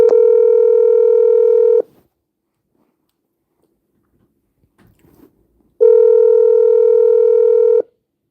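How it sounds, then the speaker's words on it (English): Loud telephone keypad tones during a call-in radio talk show: two long steady beeps separated by a quiet gap with faint handling noise, and no voices. "So let me just return this call."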